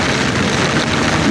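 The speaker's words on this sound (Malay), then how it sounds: "Dia hujan lebat." Heavy rain pours down in a dense, continuous hiss, loud and close, with no pauses.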